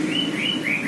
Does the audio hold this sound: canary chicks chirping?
yes